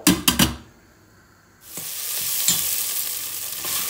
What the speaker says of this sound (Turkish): Şimdi soğanların pembeleşinceye kadar kavrulsun.